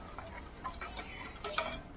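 Milk mixed with caramel being stirred for homemade curd, heard as faint light clinks and scrapes of a spoon against the pot, quiet and close with no voice.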